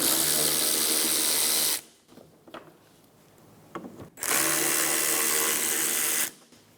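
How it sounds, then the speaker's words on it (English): A power tool whirs loudly as 10mm bolts come out of the rear bumper of a 2007-2012 Nissan Altima, in two long bursts separated by a quieter pause full of small clicks and handling noises. "Remove the two 10mm bolts on the rear bumper"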